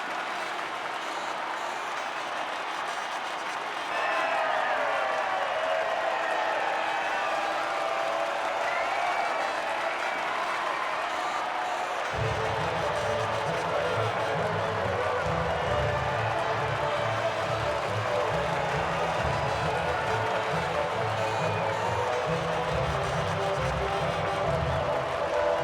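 Game crowd in F1 23 cheers and claps as drivers reach the podium at the Monaco Grand Prix, a steady wash of distant crowd noise joined by a low music bed partway through, with no talk.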